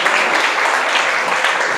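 Audience applause welcoming a speaker at an Ayurveda program event in Hapur, Uttar Pradesh: dense, loud, steady clapping from a crowd, heard alone.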